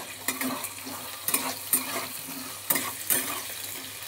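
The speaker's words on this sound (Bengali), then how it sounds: "এবার আমি আলুটাকে" Potatoes with chopped onion frying in a kadai, with a constant sizzle broken by several sharp scrapes and knocks of the spatula at irregular intervals, close and with no voices.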